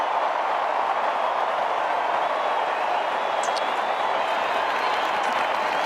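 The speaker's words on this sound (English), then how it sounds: "And even the Swans supporters behind the goals are clapping" Australian football supporters behind the goals applaud at an AFL match between Fremantle and Sydney, a steady wash of clapping from a large crowd with no clear pauses.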